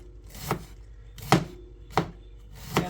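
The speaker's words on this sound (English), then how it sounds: "I'm gonna slice, shred, or cut some of the cabbage" A knife chops through cabbage on a board in four sharp, separate strikes spaced unevenly, close and clear in a quiet kitchen.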